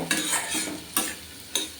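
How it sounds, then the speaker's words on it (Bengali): Potatoes frying in a pan crackle under a few quick scraping stirs of a utensil, three distinct scrapes over a low sizzle, close and short. "আলু সুন্দর ভাজা ভাজা হয়ে উঠছে"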